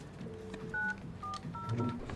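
Touch-tone DTMF dialing on a PBX office phone system, a quick run of distinct paired beeps pressed one after another with faint background hum and no talking.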